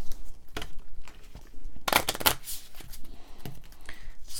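Quick riffling shuffle of a board game's encounter card deck: a burst of papery flutter in the middle, with a few lighter snaps and handling sounds before and after, close up.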